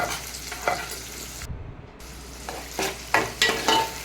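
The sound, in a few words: onions frying with mustard seeds and fenugreek, stirred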